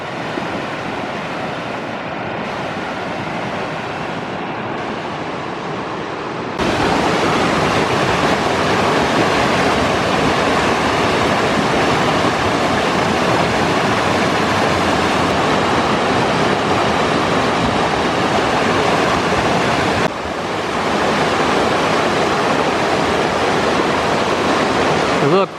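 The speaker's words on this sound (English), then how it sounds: "There's the rapids here again." Creek rapids near a road culvert at a Crown land campsite roar as a loud, unbroken broadband rush throughout, with a level shift partway through and no clear voices.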